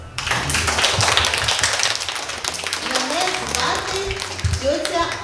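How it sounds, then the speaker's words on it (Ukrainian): An audience at a children's fairy-tale event claps in a dense, close burst of applause that carries on steadily, with voices talking over it toward the end. "Ваші оплески, будь ласка."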